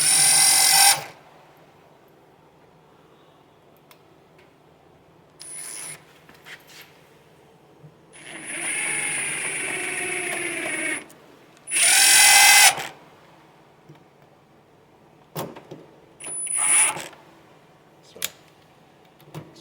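Metabo HPT 18V triple hammer driver running in its slow, delicate mode, driving No. 8 by 1-1/4 inch thin trim screws: several separate whirring bursts of varying length, close and fairly loud, with quiet gaps between them.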